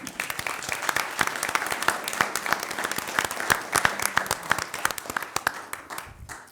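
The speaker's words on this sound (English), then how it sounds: "Let's give them another round of applause." An audience at a board of education meeting claps in a lively round of applause, with individual sharp claps standing out over the crowd and the sound fading near the end.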